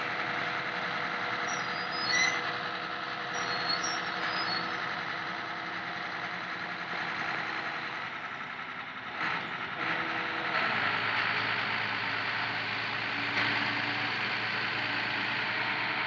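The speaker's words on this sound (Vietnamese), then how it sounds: "Giờ thì chú Thư Cần đang tiếp tục để cẩu xỉ qua nha các bạn" A crane on a six-thousand-ton cargo ship works with a steady mechanical drone and whine, a brief clunk near the middle, then a deeper hum as the load shifts, all without talking.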